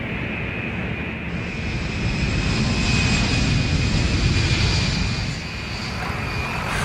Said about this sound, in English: General Westmoreland, was to carpet bomb with B-52s.